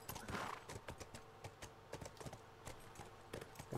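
Horse hooves clip-clop in The Last of Us Part II, quiet, irregular clops scattered through a faint game soundscape.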